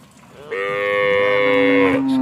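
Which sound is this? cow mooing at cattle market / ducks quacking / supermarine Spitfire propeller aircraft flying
cow mooing at cattle market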